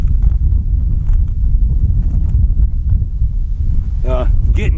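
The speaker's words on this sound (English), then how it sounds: "getting kind of windy" Wind buffets the microphone outdoors at a shooting range, a steady low roar that rumbles continuously throughout, with a short patch of faint tonal sound near the end.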